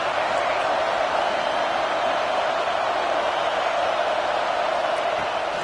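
Large college football stadium crowd at a game against Georgia, a steady broad roar of voices and cheering filling the whole stretch at even loudness.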